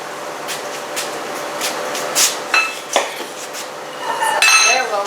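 Flour, baking soda and salt are stirred together in a bowl, heard as repeated close clinks and scrapes of a utensil against the bowl, with a louder scraping burst near the end.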